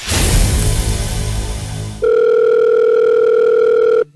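A phone call goes unanswered: a burst of noisy handling gives way to a loud, steady electronic ringback tone that holds for about two seconds, then cuts off.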